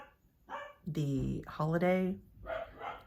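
Dogs bark at home in a few short, loud bursts, interleaved with and overlapping a person speaking nearby.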